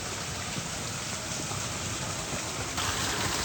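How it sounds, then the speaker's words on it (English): Small creek crossing on a wet hillside track during heavy rain, a dense steady wash of flowing water and falling rain, close and constant. "Little creek crossing."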